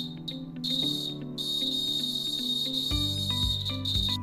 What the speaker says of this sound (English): The buzzer started to play because the conductive strings were touching one another.